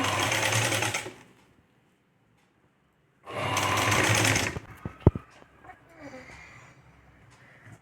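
Sewing machine stitching a patch onto a mini paithani saree blouse, running in two loud, steady bursts of about a second each with a quiet gap between, then stopping amid light clicks and handling noise.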